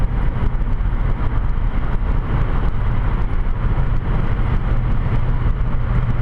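A car moving at highway speed, with a loud, steady engine and road roar that holds evenly throughout and has no voices over it.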